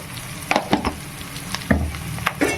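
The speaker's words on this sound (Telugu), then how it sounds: "ఈ విధంగా ఉల్లిపాయ కూడా బాగా మగ్గుతుంది." Onions frying in a pan while rice upma is being made, a steady close sizzle broken by several short scraping stirs.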